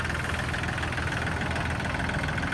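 A small farm tractor engine idles steadily nearby, a continuous low, rough chugging hum with a knocking texture and no voices.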